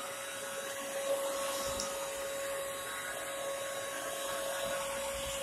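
A Bissell Crosswave Premier wet-dry vacuum mop runs on a rug with a steady motor whine and constant hum, fairly quiet and unbroken throughout.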